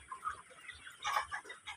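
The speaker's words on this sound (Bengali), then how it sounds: "এই যে এখানে আছে অনেকগুলো মুরগি, ভয় পেয়েছে" A flock of frightened chickens clucks and squawks in hot weather, with several overlapping calls close by and a louder burst of agitated clucking midway.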